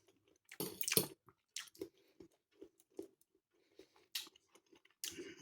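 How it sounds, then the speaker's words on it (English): Close, quiet crunching and squishy chewing of crunchy carrots from a homemade cottage pie meal with gravy and Yorkshire puddings, coming in irregular bites with soft pauses between. "Nice bit of crunch in these carrots"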